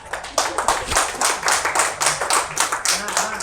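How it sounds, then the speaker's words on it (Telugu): Class of attendees clapping together to thank their teacher: a rapid, steady series of sharp hand claps, fairly close and even in loudness, keeping up throughout with faint voices underneath. "క్లాప్స్ కొట్టేసి సార్కి మనం ధన్యవాదాలు తెలుపుకున్నాం"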